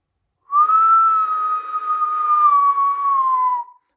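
A loud whistle made without fingers, one steady sustained tone held for about three seconds, close and alone.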